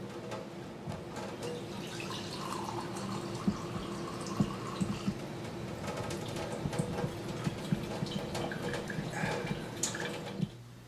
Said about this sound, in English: Once a full stream comes out of the filter system